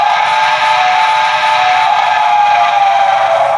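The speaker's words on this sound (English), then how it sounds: "This is a New York Central whistle." A New York Central steam whistle on a Dreyfuss Hudson locomotive in a train simulation game, one long, loud, steady chime tone held without a break.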